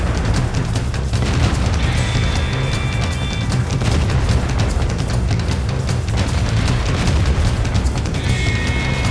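Heavy tank cannon fire in World of Tanks as a T-29 battles while assaulting a hill, with dense, continuous booming blasts and rumbling explosions filling the whole stretch at high volume.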